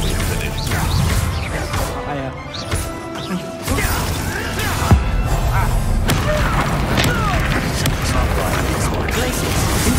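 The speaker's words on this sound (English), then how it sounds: "Explosion!" A Bombarda spell explosion in Hogwarts Legacy combat: a heavy boom bursts out of dense, continuous battle noise, with further thuds and crashes around it.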